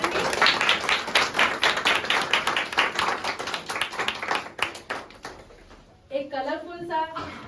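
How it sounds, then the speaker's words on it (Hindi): An audience at a consumer welfare programme gives loud welcoming applause, many hands clapping in a strong, rhythmic burst that thins out and fades, followed by a voice speaking at the end. "सब लोग जोरदार तालियों से सबका स्वागत करेंगे।"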